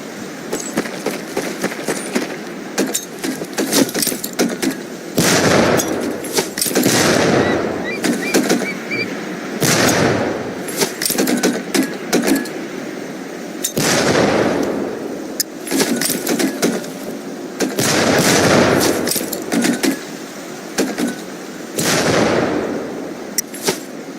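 Training grenades burst one after another in Medal of Honor Pacific Assault, a run of loud sharp blasts with gaps between them and a constant high whine running throughout.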